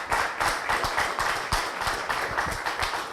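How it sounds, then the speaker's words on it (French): A studio audience in a Kinshasa talk show breaks into steady applause, dense overlapping hand claps continuing throughout at a fairly loud level without speech. "on applaudit quand même."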